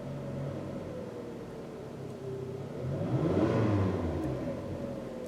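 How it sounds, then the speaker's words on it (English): A 2013 Hyundai Sonata GLS engine idles with a low steady rumble, then revs up briefly and settles back down, close and alone without voices. "And I'll rev the engine a little bit."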